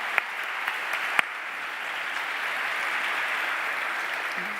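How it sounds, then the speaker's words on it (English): A round of applause from an audience welcoming panelists at a global policy forum, steady dense clapping throughout with a couple of sharper claps near the start and no talking. "Let's welcome our panelists with a round of applause"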